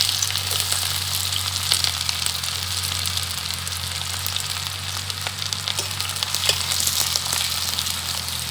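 Chopped onions and dried red chillies frying in hot oil in a pan, a steady, close, loud sizzle with crackling pops that continues throughout.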